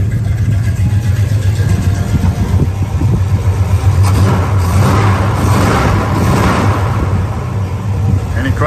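A muscle car's engine idles with a deep, steady exhaust rumble, loud and close, swelling slightly midway, with someone talking over it throughout.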